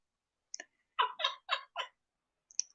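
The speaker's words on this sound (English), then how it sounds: "The bird sounds angry" A pet bird calls close and loud: one short sharp squawk, then four harsh raspy calls in a quick run, and after a pause a final thin squeak, with silence between the bursts.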